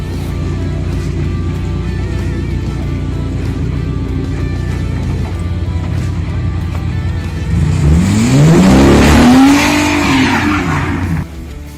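A Lamborghini Gallardo replica car idles with a low rumble, then revs sharply through a couple of rising sweeps with tyre squeal and noise as it pulls away, close and loud.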